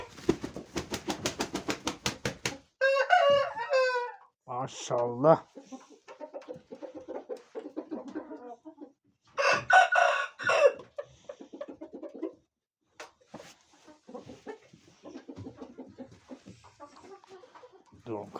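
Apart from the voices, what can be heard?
rooster crowing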